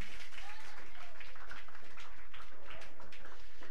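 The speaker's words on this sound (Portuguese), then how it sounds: "Pode se sentar e aplaudir Jesus com as palmas bem fortes de vitória." Congregation at a church sermon applauding with strong, sustained clapping, a dense steady wash of many hands at moderate distance with no clear pauses.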